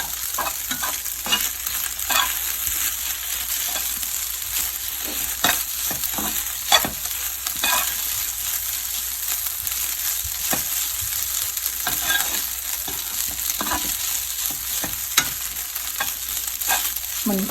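Fried rice with crab sticks sizzles steadily in a hot pan, with frequent scraping and stirring clatters of the spatula punctuating a continuous frying hiss throughout.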